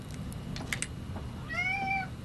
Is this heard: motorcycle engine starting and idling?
no